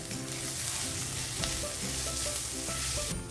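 Masala with chili flakes and coriander sautéing in a pan for tarri poha, a dense loud sizzle with steady stirring scrapes and clinks, no voices.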